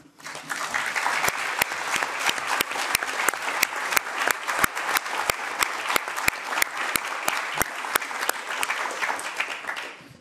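An audience at a European Parliament event applauds an invited guest, a steady bed of clapping with sharp, regularly spaced louder claps standing out nearby, continuing throughout.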